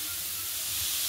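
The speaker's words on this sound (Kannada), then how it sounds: "ಇವಾಗ ಇದು ಹಸಿ ವಾಸನೆ ಹೋಗೋವರೆಗೂ ಚೆನ್ನಾಗಿ ಫ್ರೈ ಮಾಡ್ಕೊಳ್ತೀನಿ" Carrot halwa mixture fries in ghee with a steady, close hiss that stays even throughout this short moment, with no voices over it.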